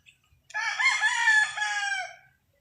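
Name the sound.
rooster crowing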